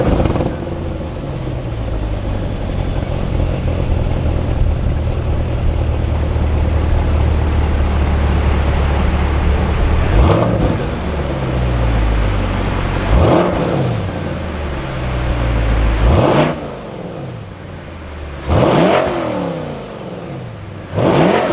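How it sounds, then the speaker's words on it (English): 2021 Chevrolet Corvette Stingray pulling away and accelerating, a loud, close engine drone that climbs through several rising rev sweeps with brief drops between shifts, heard alone without talk. "setting off in the 2021 Chevy Corvette"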